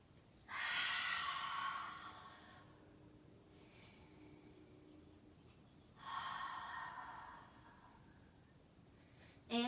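Deep breaths are heard during a yoga down dog pose: two long, loud exhales some seconds apart, with a fainter breath between them, all close and steady in a quiet room.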